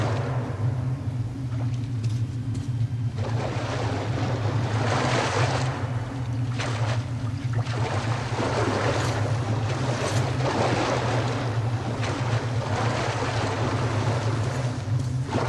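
A steady, close, broadband rush of flowing river water from the game Metro Last Light Redux, with a low rumbling drone beneath and surges in the wash that swell and fade; no voices are heard.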